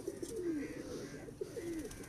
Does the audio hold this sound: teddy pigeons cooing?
yes